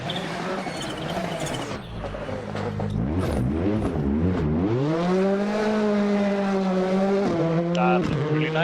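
A rally car slides through mud at the Raluil Iasului round of the Eastern European Rally Championship, its engine droning loud and close, revving and rising in pitch as it accelerates across the sloppy ground.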